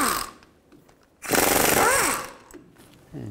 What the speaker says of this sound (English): Now I'll take these bolts out. Use a 15 millimeter socket.